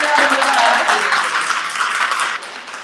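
An audience at a Busboys and Poets event claps in a dense, loud round of applause that slowly thins toward the end.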